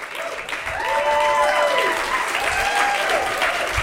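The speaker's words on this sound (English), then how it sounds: "Keep your applause going for Craig Pines." An audience claps and cheers for a storyteller taking the stage at a StorySLAM show, a steady, dense wash of applause that swells after the first half second and holds.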